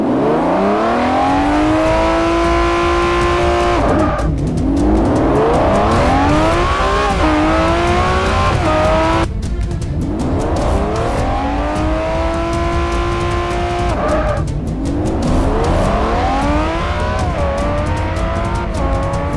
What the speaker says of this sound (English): The Lamborghini launching like a rocket right off of the line